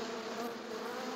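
Buzzing of bees swarming at a colony in Uganda, a dense steady drone held at an even level for the whole stretch, with no talk over it.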